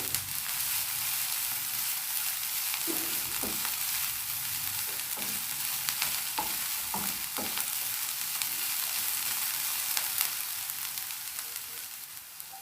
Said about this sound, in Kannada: ಈಗ ಇದೆಲ್ಲದನ್ನು ಇನ್ನೊಂದು ಸಲ ಚೆನ್ನಾಗಿ ಫ್ರೈ ಮಾಡುವ.